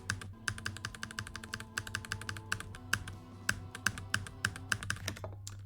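Rapid mouse or key clicking during a level of the rhythm video game Arpeggi, dense trains of sharp clicks over a steady low musical hum, faster in bursts and then spacing out, with no talk.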